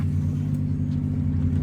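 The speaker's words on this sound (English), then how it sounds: "This car's running. I'm just gonna let it run." A car engine idles steadily after being bump started, a low continuous rumble held at an even level throughout, close by with no talk over it.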